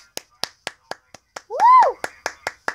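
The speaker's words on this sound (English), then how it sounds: "I think it deserves another round of applause, our victory." Sharp hand claps ring out one at a time in an uneven rhythm, close and loud, with a brief whoop of a voice cutting in near the middle.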